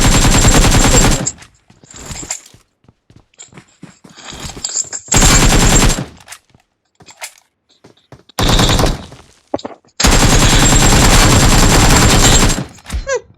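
Shotgun and automatic gunfire in a PUBG match, loud and close, arriving in several long sustained bursts separated by quieter gaps of faint clicks and movement.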